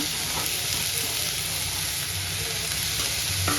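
Green chillies, coriander and mint fry in a pan while being stirred, giving a steady, loud, close sizzle with soft scraping underneath throughout.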